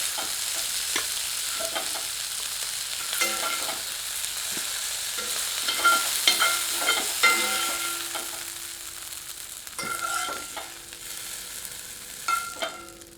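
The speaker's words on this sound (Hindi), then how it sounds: "2 मिनट इसे तीव्र आंच पर कड़छी चला चला कर भूनें" Grilled chicken is stir-fried over high heat in a pan, a ladle scraping and clanking repeatedly against the metal over a steady sizzle, close and continuous.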